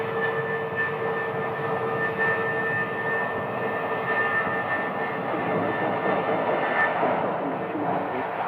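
An airplane at Sky Harbor airport in Phoenix, a loud, steady jet engine roar and whine holding level throughout as the aircraft passes nearby.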